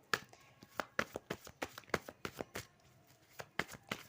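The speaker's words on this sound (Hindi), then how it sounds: "सबसे पहले मैं अपने कार्ड्स निकाल लेती हूँ" Tarot cards being shuffled by hand in crisp, rapid riffling bursts with short pauses between them, close and fairly quiet, with no talking.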